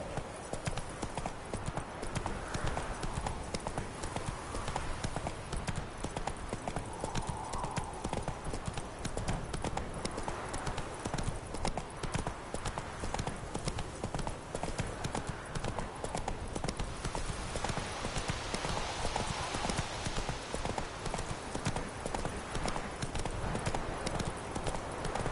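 Horse hooves clip-clop in a fast, continuous galloping rhythm from the video game The Witcher, loud and close throughout, with ambient game sound beneath and no clear speech.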